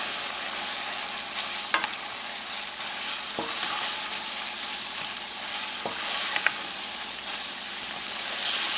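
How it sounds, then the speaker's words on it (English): Green onions, ginger and shredded cabbage sizzle steadily in a hot pan as they are tossed around, a continuous close frying hiss with a few faint clicks of utensil against pan. "we're going to add all of our green onions, ginger, and our shredded cabbage. And we're just going to add it and just toss it around in there."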